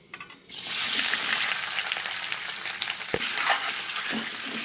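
Potato slices hit hot oil tempered with cumin, bursting into a loud, dense sizzle after a brief quiet moment, then frying steadily with occasional stirring clatter.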